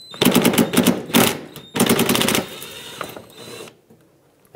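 A 10 mm screw being backed out of the fender liner of a 2013–2020 Nissan Pathfinder, likely with a ratchet, giving close, loud bursts of rapid clicking separated by short pauses before it falls quiet.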